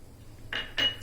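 Capsicum being stirred by spoon into a creamy malai semolina pizza topping in a bowl: two quick close clinks and scrapes of metal against the dish in about a second, no talking.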